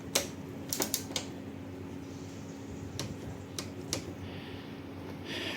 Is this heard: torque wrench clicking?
yes